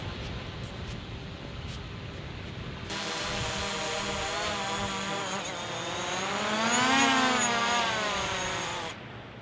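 A small quadcopter drone flown with FPV goggles comes in to land, its steady high-pitched motor whine growing louder and rising in pitch as it nears, then cutting off.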